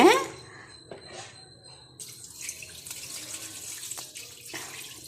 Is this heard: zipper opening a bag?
no